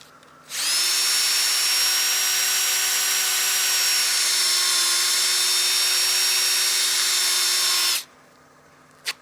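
Sandpaper pressed to a wood platter turning on a lathe makes a loud, even whirring hiss that starts abruptly, holds steady for over seven seconds and cuts off cleanly.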